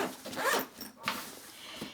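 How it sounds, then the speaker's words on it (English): The zip on a Reisenthel cooler bag is drawn open in a quick rasping pull, close and fairly quiet, followed by softer fabric rustles. "The twin zips make it perfect if you just want to open a little bit"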